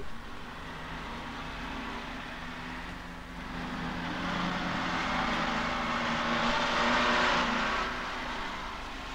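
A KrAZ truck engine runs steadily as a broad, even rumble and hiss, growing somewhat louder midway before easing back.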